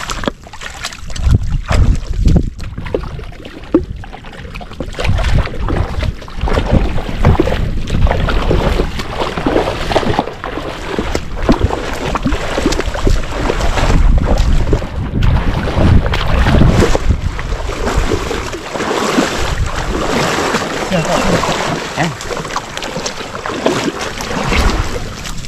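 A small boat moving across water, with steady engine and splashing noise and strong wind buffeting the microphone throughout.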